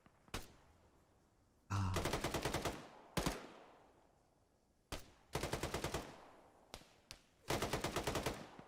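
Machine gun in Arma 3 fires repeated rapid bursts of several seconds each, with single loud shots between them, loud and close against a quiet background.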